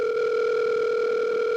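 Loud, steady telephone dial tone, a single unbroken electronic hum that cuts off abruptly at the end.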